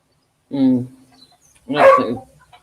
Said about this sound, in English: If you can hear that, that's my dog.